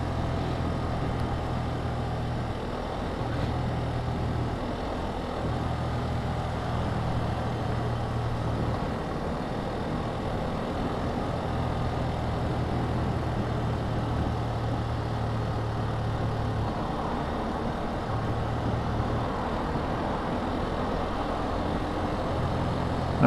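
Benelli BN 125 motorcycle riding along a road near Cardiff toward Caerphilly, a steady low engine drone with wind rush carrying on throughout, no voices.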